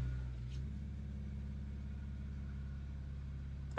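A BMW E90 with a built motor idles low and steady, a continuous deep rumble with faint ticking, close by and alone.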